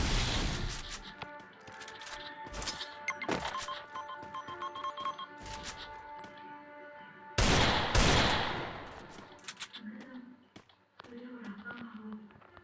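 A video game headshot delivers loud bursts of gunfire, with a big blast near 7.5 seconds over layered game effects and tones, fading into quieter ambience afterwards.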